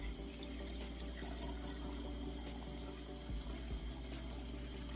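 Fresh filtered well water poured into a container for a watermelon and lime drink, a steady continuous splashing stream, quiet and close, with no talking.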